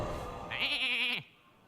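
A cartoonish sheep bleats once in Hearthstone after a Polymorph spell, a single clear, wavering baa lasting about half a second that cuts off abruptly into quiet.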